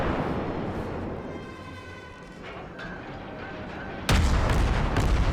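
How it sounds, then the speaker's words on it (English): Battleship guns fire in the World of Warships naval game, a sudden loud broadband boom arriving near the end and sustaining a heavy roar, after a stretch of low rumbling battle ambience with faint tonal hum. "We also have a battleship shooting at him as well"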